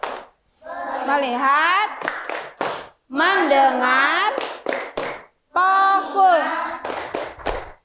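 Children in a classroom perform a rhythmic clapping chant, voices rising in sung phrases punctuated by sharp bursts of hand claps between them, close and loud.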